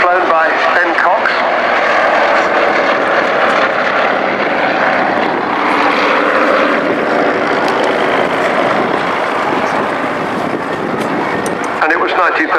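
A vintage propeller aeroplane of a type that first flew in 1935 performs at the RAF Cosford VE Day airshow, its engine a loud, continuous broad roar that holds steady throughout the pass.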